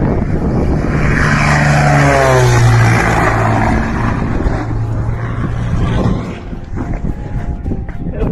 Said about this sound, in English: As the plane descended towards the ground, a startling event took place.